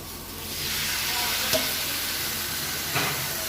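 Duck meat dropped into a pan of fried onions sets off a sudden loud, steady sizzle that holds close and strong, with a couple of brief clatters of the pan.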